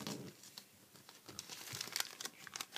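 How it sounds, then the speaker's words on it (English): Origami paper is folded and creased by hand, with faint, close, irregular crinkles and soft paper rustles in a quiet room. "you're going to fold this flap over so it looks like this"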